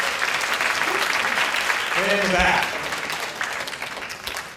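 Workshop attendees at a Hong Kong conference clap for a participant, a full, sustained burst of applause with a voice speaking briefly over it.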